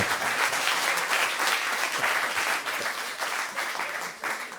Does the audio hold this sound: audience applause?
yes